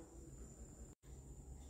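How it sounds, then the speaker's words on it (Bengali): Night crickets chirping steadily in the background, a continuous high insect trill that stays even and moderately loud, cut by one brief moment of silence midway. "ঝিঝি পোকা শব্দ শুনতে পারবেন"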